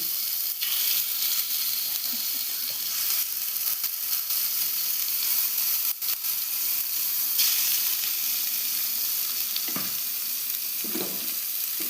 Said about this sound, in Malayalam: അപ്പോൾ നമുക്ക് മീൻ ഹാഫ് ഫ്രൈ ചെയ്യാം. അങ്ങോട്ട് ഇടാം.